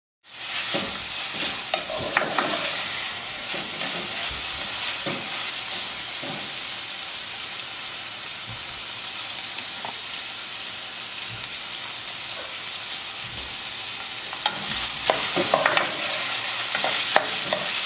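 Bacon and onion fry in a pan for Greek-style rice while being stirred, a continuous close sizzle with intermittent scraping and stirring clatters throughout, loud and steady with no talking.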